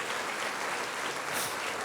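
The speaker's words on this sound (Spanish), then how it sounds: "Denle un aplauso fuerte al Señor." A church congregation applauding steadily during a Spanish-language service, dense clapping sustained throughout with a slight swell near the end, no voices over it.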